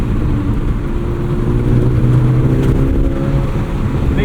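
A 2008 Volkswagen GTI two-door with a manual gearbox pulls under acceleration from inside the cabin, a steady loud engine drone with rising harmonic tones and constant road rumble, no voices over it.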